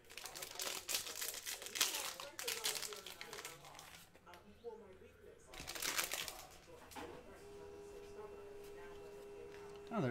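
A wrapper on a 2019-20 Panini Chronicles NBA fat trading card pack crinkles and tears up close in two rough bursts, followed by a steady faint hum.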